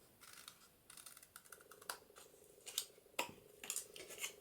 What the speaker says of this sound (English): Going to cut that off across to the second fold line.